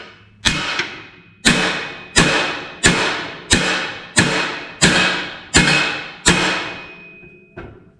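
Hammer blows on the header of a C10 truck to gain clearance, nine sharp loud metallic strikes in an even rhythm with ringing decay between each, no talking.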